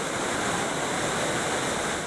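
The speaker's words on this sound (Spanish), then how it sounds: "Nos fuimos a dormir en medio del rugido del río Támara" Roar of the Támara river at night, a loud, steady broadband rush of water that stays constant and fills the whole span, with no voices.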